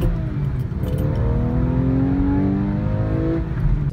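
A Porsche 911 engine revs hard above 4,500 RPM, a loud, steady, rising mechanical drone heard up close from inside the car as it pulls continuously, with no talking.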